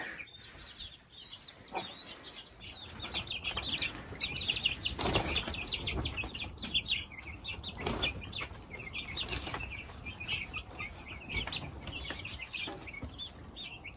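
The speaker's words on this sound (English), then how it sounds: "we've still got brooder chicken in here as well" Young meat chicks in an indoor brooder chirp and peep continuously in a dense, busy chorus, with occasional wing flaps and scuffles and a steady background hum.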